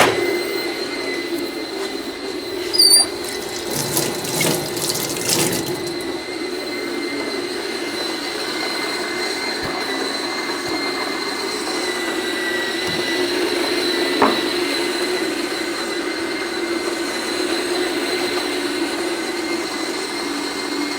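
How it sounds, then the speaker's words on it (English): A Fellow Opus coffee grinder runs slowly through espresso beans, a steady sustained mechanical whir and hum with a few brief clattering bursts near the start, holding an even level throughout. "Very slow grinder."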